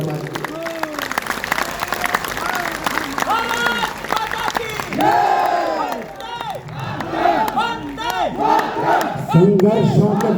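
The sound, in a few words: audience clapping and cheering at a poetry recital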